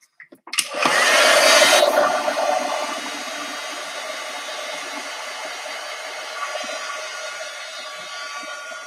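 A hair dryer switches on and roars steadily, drying paint on a textured artwork; a strong burst of airflow at first settles into a continuous, slightly quieter whir with no talking.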